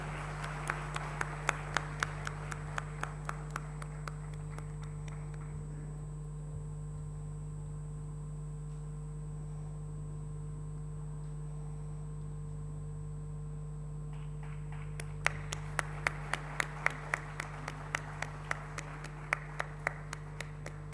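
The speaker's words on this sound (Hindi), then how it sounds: "आप सभी से निवेदन है कि जोरदार तालियों के साथ उन सबका अभिनंदन करें।" Audience clapping to welcome honored guests at a cultural event, sparse and distant, rising in two bursts with a quiet stretch between, over a steady electrical hum.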